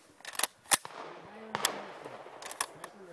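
Shotgun blasts ring out while shooting clays at a hunt club, several sharp, separate cracks spaced irregularly over a few seconds, set back at moderate loudness with faint background voices.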